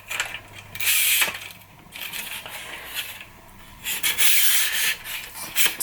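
An adjustable tripod leg is pulled open in short bursts of rubbing, scraping and clicking as its sections slide and lock, close up and moderately quiet.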